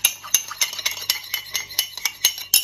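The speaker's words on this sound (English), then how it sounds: "A very simple vinaigrette and some salt and freshly ground pepper. And just mix it all together." Carrot salad tossed with vinaigrette, salt and pepper, a quick run of light clinking and tapping strokes from a utensil against a bowl, close and rhythmic with no talk.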